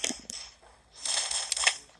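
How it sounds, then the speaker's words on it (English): Revolver shots in a video game: a couple of sharp, dry cracks early on, then a brighter burst of gunfire and clatter in the second half, fairly quiet overall with no voices. "I love the sound of the revolver."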